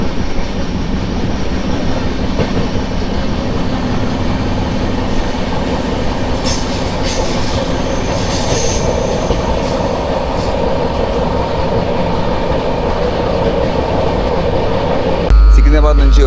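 A Humsafar Express passenger train rumbles steadily along the rails, its wheels clacking and squealing throughout a loud, continuous onboard roar.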